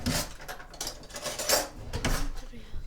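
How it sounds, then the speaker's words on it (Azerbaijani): Fork clinking and scraping against a dish while mixing ingredients at home, a run of quick irregular taps and scrapes, close and fairly loud with no talk. "Vilkanla qarışdıracağım belə."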